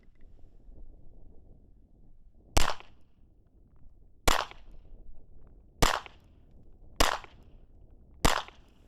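Five sharp pistol shots from an Alien Remus handgun fitted with a red dot, fired at a target at a range, spaced about one and a half seconds apart, loud and close over light wind noise.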